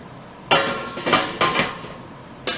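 A metal strainer is set into a Cook N Home steam juicer with four or five sharp clanks and clinks of metal on metal. The sounds are close and come in an uneven rhythm, with no talking.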